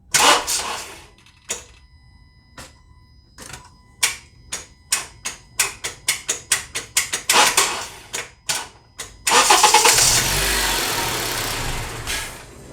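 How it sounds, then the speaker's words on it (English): A 2014 Honda CR-V with an intermittent no-start gives a run of sharp, uneven starter clicks, some spaced out and some in quick bursts, close and loud. A steadier, louder mechanical rush takes over near the end. "Obvious intermittent clicky no start"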